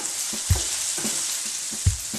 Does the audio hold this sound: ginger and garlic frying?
yes